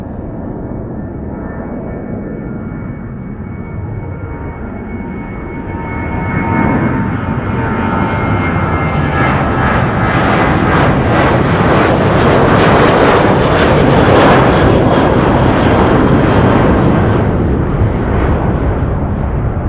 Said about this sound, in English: the updated CFM56. Now this is the 737 Alaska Airlines that I talked about before.